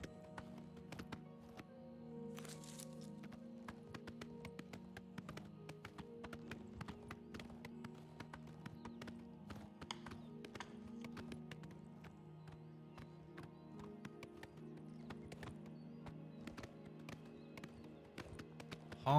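A horse's hooves clip-clop at a steady trot in The Elder Scrolls IV: Oblivion, rhythmic and fairly close beneath a game music score, with a brief whinny early on.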